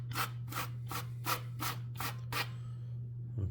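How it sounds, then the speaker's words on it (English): A 6-inch drywall knife scrapes along a chipped plaster corner in seven quick, evenly spaced strokes, each a close, gritty swipe, before the scraping stops, with a steady electrical hum underneath. "With the 6-inch drywall knife. I'm just building that corner up."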